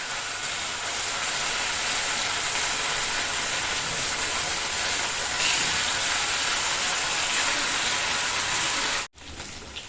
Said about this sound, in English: We are going to deep fry them.